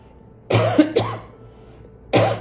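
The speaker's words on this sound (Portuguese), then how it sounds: "E a tosse chata, insistente, continua" Two sharp coughs close together, a short pause, then another cough, loud and near with no talking.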